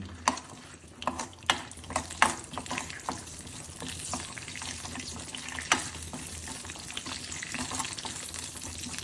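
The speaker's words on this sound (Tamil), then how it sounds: "இந்த நெய்யில் லேசாக முந்திரி பருப்பு வறுத்துட்டு" Cashews frying in ghee in a small kadai: a continuous, fairly quiet sizzle with crisp popping and stirring clicks that are busiest early on.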